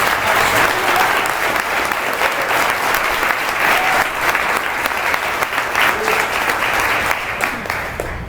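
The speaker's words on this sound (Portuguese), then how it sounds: "dê uma salva de palmas" Congregation applause in an evangelical church service, a loud, continuous roar of many hands clapping together, sustained evenly for the whole stretch with faint voices beneath.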